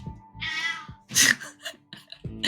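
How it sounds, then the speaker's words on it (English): A house cat meows several times in short, close, separate calls, some sharp and rising, with quiet gaps between them. "After that brief fucking cat interruption, he's like settling down."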